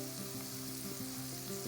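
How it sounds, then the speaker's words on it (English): Jeera, coriander and garam masala powders frying while stirred in a pan for vegetable cutlets, giving a continuous close sizzle with faint scraping strokes underneath and no talk. "Stirring well, cook the spices until the raw smell goes away."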